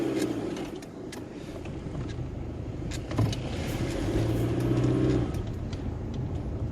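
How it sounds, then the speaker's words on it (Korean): Engine of a 2001 Kia Carnival minivan climbing a hill, a steady low drone with road and cabin noise throughout, no talking. "이 차가 원래 엔진 소리가 참 심한 차인데 아까보다 많이 줄었네."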